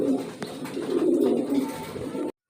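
A pair of large red Danish pigeons coo softly and continuously in a loft, a low murmuring rumble close by with one brief sharper sound partway through, ending abruptly.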